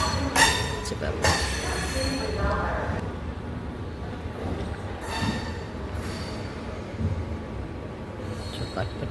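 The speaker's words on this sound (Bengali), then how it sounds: "ট্রেনে করে ফিরছি," A passenger train runs at night, making a continuous low rumble with brief metallic clanks and squeals. Faint voices and background chatter sit underneath.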